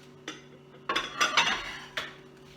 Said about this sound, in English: I'm just going to go ahead and put my rice in the microwave.